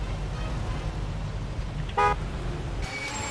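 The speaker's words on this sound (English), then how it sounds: "Okay, now honk your horn." A car horn honks in the Mafia 2 video game, two short toots that stand out clearly over a low, steady engine and ambient rumble, with no talking.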